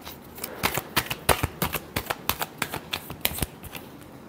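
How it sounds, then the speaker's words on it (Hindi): Tarot cards being shuffled by hand in a final shuffle, a quick run of crisp papery riffles and flicks in irregular bursts, close and clear with no talk. "last shuffle"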